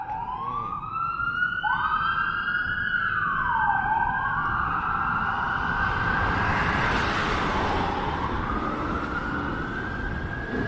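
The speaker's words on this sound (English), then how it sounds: "we got ambulance and police here" Several police and ambulance sirens wail at once on a Toronto street, sweeping up and down in overlapping tones, with a steady roar of traffic underneath; loud and continuous, no talking.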